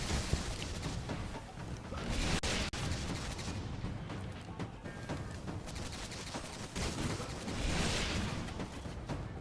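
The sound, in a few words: scout rifle gunfire in the video game Destiny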